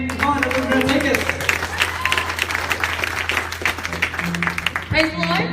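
Applause and cheering from a congregation during a church service after a dance performance, a dense clapping wash over a steady low hum, with voices calling out and a short musical tone near the end.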